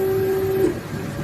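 A 3D printer running its assisted leveling calibration, the probe touching the glue-coated build plate: a steady motor whine holds at one pitch, then stops, over a low mechanical hum.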